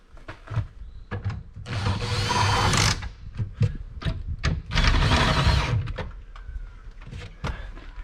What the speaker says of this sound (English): You can finish them off with a tool.